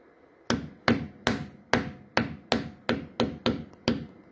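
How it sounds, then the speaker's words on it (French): A small mallet tapping a part into place during a Volkswagen 4MOTION Haldex and rear differential oil change: ten sharp, close strikes at a steady, slightly quickening rhythm, each one ringing briefly before the next, with no talking. "Je tapotais avec un petit maillet."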